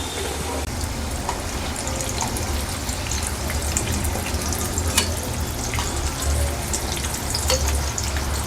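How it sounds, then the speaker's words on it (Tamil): Onion samosas deep-frying in hot oil over a medium flame, a dense, continuous bubbling sizzle with crackle throughout, close and fairly loud, with no speech. "மீடியம் ஃப்ளேமில் வச்சுட்டு பொரிக்கலாம்."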